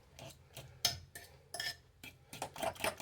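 Spoon or whisk mixing an egg into mashed banana in a bowl, several irregular clinking scrapes against the bowl, close and fairly clear, with no talking.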